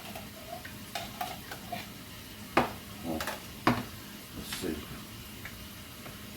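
A spoon works through canned chicken and rice in a pan, giving scraping strokes and clicks against the metal over a faint sizzle. Two louder knocks stand out midway, with occasional quiet speech underneath.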